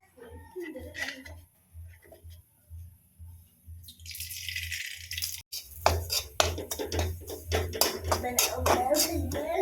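Semolina roasting in desi ghee in a kadhai for halwa, with repeated metal scraping and clinks of a spoon against the pan growing busier and louder, under a low steady hum and occasional voices.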